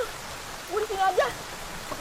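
Rain falls in a steady, faint hiss in the background while a brief voice sound rises over it midway.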